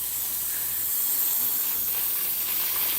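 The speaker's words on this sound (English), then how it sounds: "Change it to the strongest stream I can. And then I'll spray it straight up into the tree." A garden hose set to its strongest stream sprays water straight up into a tree, making a continuous, even hiss that holds steady from start to finish.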